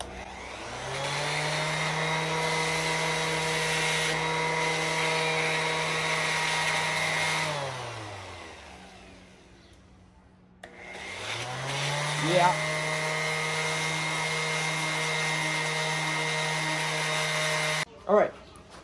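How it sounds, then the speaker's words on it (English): A power tool sanding down a plastic piece for a custom rearview mirror mount, a loud steady motor whine that winds down, pauses briefly, then spins back up and runs again before stopping. "I'm now just gonna sand that down"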